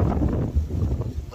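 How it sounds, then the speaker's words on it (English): A wind gust rumbles against the microphone behind a brick wall at an urban wild camping spot, a short, low buffeting burst that swells and dips. "see how windy it is now"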